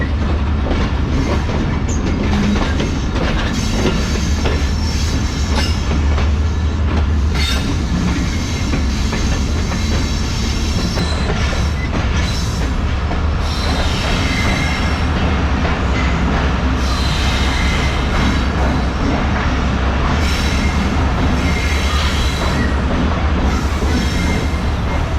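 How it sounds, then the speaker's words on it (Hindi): Badar Express passenger train pulling into Chak Jhumra Junction station in Pakistan, a loud, continuous rumble with rhythmic clickety-clack of wheels over rail joints and occasional squeals, heard close by throughout. "फ़िलहाल बदर एक्सप्रेस पहुँच चुकी है चक जुमरा जंक्शन रेलवे स्टेशन पर।"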